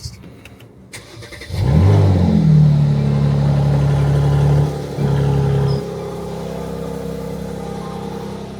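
A Mercedes-AMG engine in Sport Plus mode cranks and fires up with a loud revving roar, holds a high cold-start idle, then drops to a steadier, quieter rumble.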